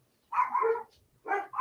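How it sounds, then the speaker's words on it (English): A dog barks in two short bursts, a fairly loud bark followed after a pause by another, heard indoors with no talking over it. "dog's going crazy."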